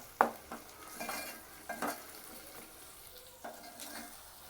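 Tomato pieces sizzle softly in a pan with onion and ginger garlic paste while being stirred, a spoon clinking against the vessel a few times over the gentle frying.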